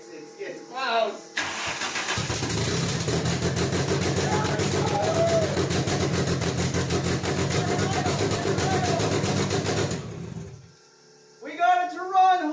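A freshly built VW ABA 16-valve turbo engine fires up and runs steadily at a loud, close idle for about eight seconds, with a rough low rumble, then cuts off; excited voices talk before and after it runs.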